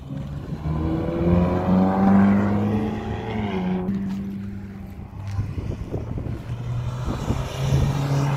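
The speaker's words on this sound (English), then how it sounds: "There's a car coming around." A car drives past at a driving experience event where Porsches and Ferraris are present, its engine tone rising and falling loudly as it passes, then fading into lighter rumbling and background noise.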